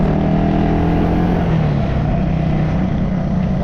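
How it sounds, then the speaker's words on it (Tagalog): A Yamaha Aerox motor scooter engine runs in a steady loud drone while riding, with a continuous low hum and a slightly shifting pitch, close and unbroken throughout. "Laki rin pala ng motor yan, no? Oh, yung Aerox yan, Aerox."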